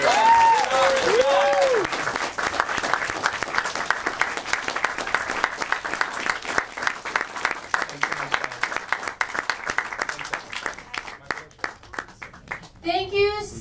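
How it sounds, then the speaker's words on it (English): Crowd applause at the close of a film festival Q&A for the horror documentary Haunters: The Art of the Scare, a dense, steady clatter of many hands that builds and fades, with brief voices and whistles near the start and end. "Ladies and gentlemen, a huge round of applause."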